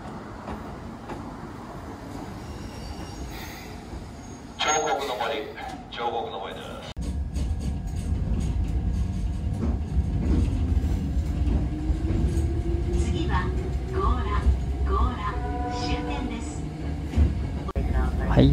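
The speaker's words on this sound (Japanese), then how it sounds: "はい、電車が来ました。" A Hakone Tozan Railway train pulls in and runs on the mountain line, a loud steady rumble building after a brief burst of nearby noise and continuing throughout, with no talk over it.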